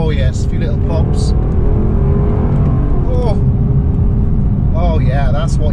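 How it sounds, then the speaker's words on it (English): A Lexus LC500's engine roars loud and steady, a deep muscle-car growl with a downshift and a few small exhaust pops, while people talk over it throughout. "Oh, that is a proper muscle car sound, that. Downshift. Oh yes, a few little pops."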